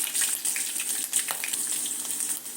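Urad dal, chana dal, green chillies and curry leaves crackle and fry in hot oil for a buttermilk upma, a bright continuous sizzle with popping bursts, close up and with no voices.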